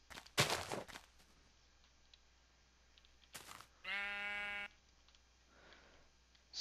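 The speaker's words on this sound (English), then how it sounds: "Well, that's how sheep eat grass." A sheep in the video game Minecraft bleats while eating grass. One steady, buzzy bleat sounds midway, set among a few brief soft game noises.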